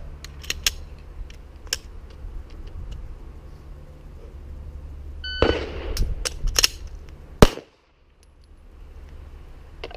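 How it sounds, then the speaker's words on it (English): Pistol shots fired during a pistol standards drill with a tap-rack malfunction clearance: a few sharp, close reports about a second apart follow a stretch of quiet background noise, with small metallic clinks between them. "Then you do a tap and a rack and a fire."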